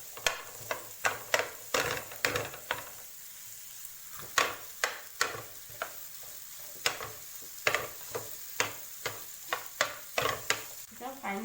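Tawa pulao being mixed with two spoons on a hot street-food style griddle, metal spoons clanking and scraping in a quick irregular rhythm over a steady frying sizzle, close and clear with no talk.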